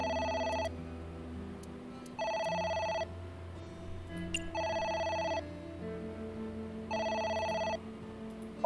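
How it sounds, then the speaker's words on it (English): A telephone in the video game AI: The Somnium Files rings in four evenly spaced electronic trilling bursts, loud and clear over a soft musical background, with no talk. "phone is ringing."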